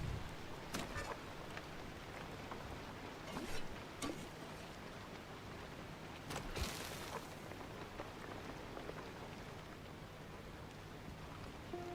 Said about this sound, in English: it's raining out